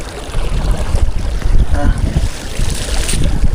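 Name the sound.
wind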